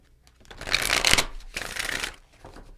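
Tarot cards being chain-shuffled close up, a dense papery riffling that swells in two bursts with a soft flick between, then fades to light handling.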